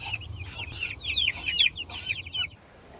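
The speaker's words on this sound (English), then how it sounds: "Chickens are all situated in the coops." Chickens clucking in their coops at dusk, a busy run of close, bright clucks and short squawks rising and falling for a few seconds before trailing off.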